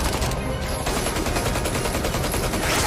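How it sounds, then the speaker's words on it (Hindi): Dense, continuous gunfire fills the whole stretch, loud and unbroken like a sustained fusillade during a gangster shootout. "लगातार गोलियां चल रही थी"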